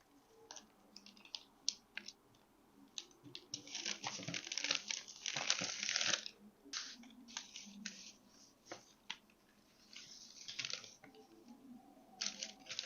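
Pattern-drafting paper for a flared shorts pattern rustles and crinkles as it is handled and spread flat on a table. A louder crisp burst of crumpling stands out amid scattered soft taps and clicks, with no talking.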